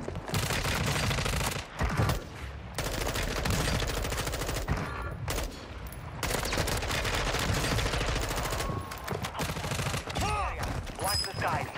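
Dense bursts of automatic gunfire and rapid shot volleys from a Warzone match with a blue dot M4, loud and continuous through most of the stretch, with brief gaps and a few sharp whistling effects near the end.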